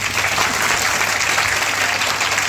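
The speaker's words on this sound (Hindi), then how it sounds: "इसलिए जोरदार ताली बजाओ।" Loud, steady applause from a large audience at a Shantikunj camp gathering, a dense wash of clapping that holds evenly throughout with no talk over it.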